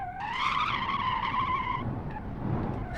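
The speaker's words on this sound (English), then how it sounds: "I just hear those tyres cry in pain." Tyres screech in a sustained, high-pitched squeal as a 1990s American luxury car corners hard in BeamNG.drive. The squeal is loud and close, holds for nearly two seconds, then fades into low road rumble.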